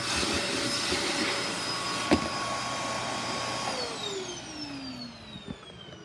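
A Royal Dirt Devil canister vacuum cleaner runs at high speed with a steady roar and whine, then the motor winds down, its pitch sliding smoothly lower near the end.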